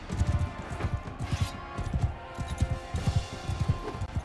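Horse hooves galloping in Mount & Blade II: Bannerlord, steady rhythmic clip-clop beats close by, moderately loud, with faint game ambience and no talk.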